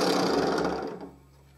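Power drill bit grinding through a metal washer to enlarge its hole, a dense, loud whirring buzz that fades out over the last half second.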